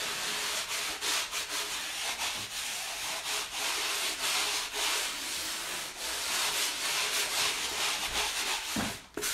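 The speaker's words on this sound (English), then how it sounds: "Now what I want to do is I just want to lightly give it a sand." Steady, scratchy rubbing of a sanding block over wood in continuous back-and-forth strokes, close and fairly loud, with a brief knock near the end.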